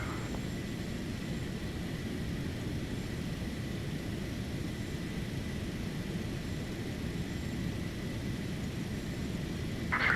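Cessna Citation X business jet in a flight simulator, its engines giving a steady broadband roar and hiss at constant level throughout, with no voices over it.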